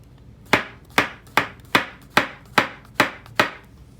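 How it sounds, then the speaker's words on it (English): A knife slicing a mushroom thinly on a cutting board in a culinary lab makes seven crisp, evenly spaced chops, close and clear, with no talking. "we'll slice it very thinly"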